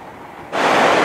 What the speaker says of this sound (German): mittlerweile stehe ich in diesem Auslauf von dem Wasserfall